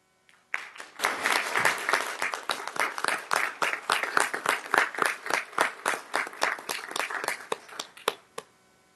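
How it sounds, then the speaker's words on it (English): A round of applause at a school board meeting honoring standing volunteers: clearly separated claps building quickly into a steady, moderately loud ovation that thins to a few scattered final claps. "if you could please stand up so we can honor you with a round of applause"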